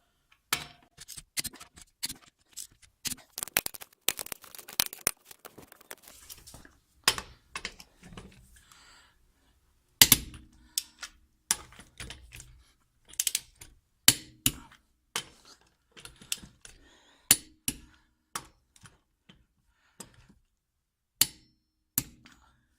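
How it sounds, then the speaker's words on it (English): Lug nuts on a Honda Insight's wheels are torqued with a torque wrench and impact socket, giving a long series of sharp metallic clicks and ratcheting ticks in irregular bursts, close and otherwise quiet. "Anytime you're torquing, you want to use an impact socket if possible."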